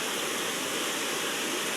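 Flooded creeks rushing together where two streams meet during a flood, a steady broad roar of fast water heard up close and continuous, with no voices.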